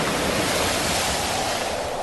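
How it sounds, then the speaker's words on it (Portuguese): Heavy waves crash and surge against a boat at sea in strong wind, a dense continuous roar of water and spray that holds steady from start to finish. "as ondas arrebentavam com tanta força em cima do barco que ele já estava ficando cheio de água."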